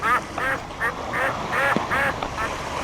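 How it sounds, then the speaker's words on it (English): A duck found on Alona Beach in Panglao, Philippines, gives a run of about eight loud, nasal quacks in a steady rhythm close to the microphone, with a faint background hiss and no voices. "Audrey found a duck"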